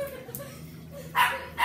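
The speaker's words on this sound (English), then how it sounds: "that's just her dog barking" A dog gives two short barks toward the end, heard indoors at moderate distance over a low background murmur.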